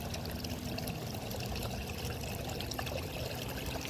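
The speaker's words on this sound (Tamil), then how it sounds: "ஓட்டி பார்த்துட்டு தண்ணி எப்படி வருதுன்னு சொல்லிட்டு பார்ப்போம் மோட்ரு ஆன் பண்ணியாச்சு ரொம்ப ரொட்டேட் ஆகிட்டுருக்கு" Water pours and splashes steadily from a BLDC motor pump running on solar panels during a test, a continuous dense gushing trickle at a constant level with no talking.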